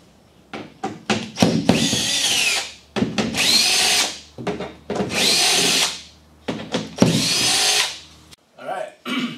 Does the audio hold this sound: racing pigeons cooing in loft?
no